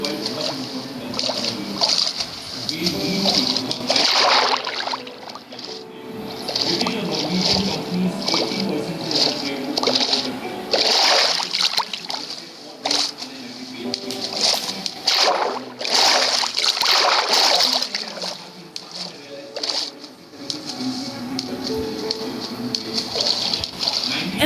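Splashing through water in the Minecraft video game, with continuous watery swishing and repeated splashes running under steady game sounds while people talk throughout.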